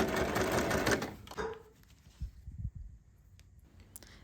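A sewing machine top stitches along the edge of a fabric tote bag in a short run that stops after about a second, followed by soft handling clicks and taps.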